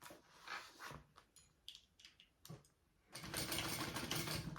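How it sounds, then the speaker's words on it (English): A sewing machine runs a steady, fairly loud stretch of stitching along the edges of a bag seam, following a few short bursts and pauses of handling and fabric movement. "I'm going to flatten my seam allowance and sew along each edge."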